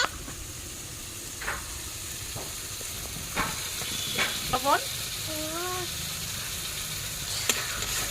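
Prawns frying with dry chili powder and turmeric, a soft steady sizzle running throughout with occasional stirring clinks, while a bird chirps briefly in the background.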